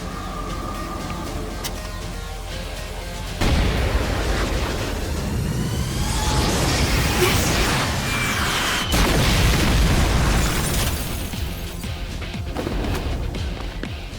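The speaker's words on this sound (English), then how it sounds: "they bring a fucking rocket launcher for some reason" Rocket launcher explosions in a Yakuza game erupt in heavy, roaring blasts that run almost continuously after a quieter opening, loud and dense with crashing debris and no talking.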